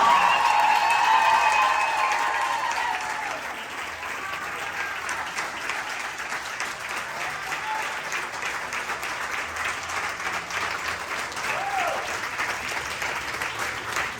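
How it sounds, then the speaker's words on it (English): Audience at a celebration event honoring Hispanic women applauds, a dense, steady wash of clapping that starts loud and settles to a sustained, even level, with faint voices mixed in. "Everyone, a round of applause again."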